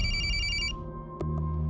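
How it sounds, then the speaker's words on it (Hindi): A telephone rings in a tense crime-drama scene, a bright electronic ring sounding for under a second before cutting off, leaving a low room hum. "लेकिन एक रात अचानक उसका मुझे फोन आया।"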